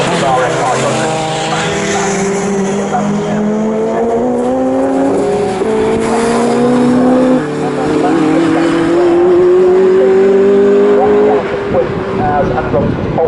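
Racing saloon cars including a Ford Sierra RS 500 circuit the track, a loud continuous engine drone rising and falling in pitch as cars pass, with a commentator talking over it.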